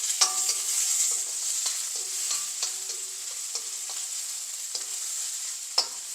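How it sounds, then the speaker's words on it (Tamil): A small tomato goes into a spicy cabbage curry frying in a pan, with a steady close sizzle and repeated scraping stir strokes about every half second. "சின்னனா ஒரு தக்காளி பழம் அதையும் சேர்க்குறேன்."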